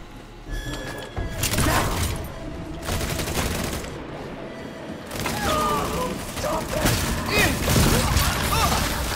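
Gunfire rattles almost nonstop in the Redfall vampire shooter, with loud volleys and booms rising and falling and voices talking over the fight.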